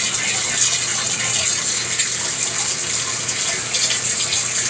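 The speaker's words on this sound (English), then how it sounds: "Sounds like it's draining really good" Running water pours and gurgles steadily into a bathtub and down its drain, a constant close rushing sound with no voices.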